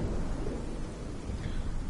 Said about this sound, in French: faut attendre que la pluie, elle s'arrête parce qu'elle me casse les oreilles